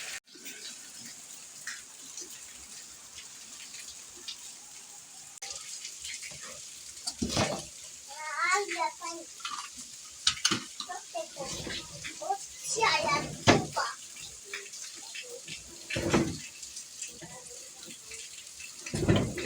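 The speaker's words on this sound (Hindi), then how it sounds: "2 मिनट तो आगे पानी चला।" Water runs from a tap in a steady hiss beneath near, lively children's chatter and play, with voices frequently rising over the flow.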